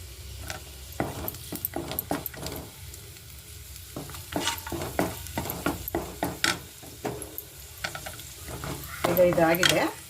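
Raisins and cashews roasting in ghee in a pan with semolina, stirred often: a steady soft sizzle under frequent scraping and clinking strokes of the spoon, growing busier near the end.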